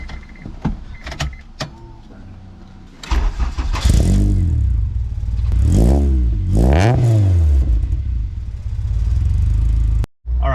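Honda car with a B-series or K-series engine cranking and starting after some clicks, then revving with rising and falling engine pitch as it pulls out of a driveway, loud and close.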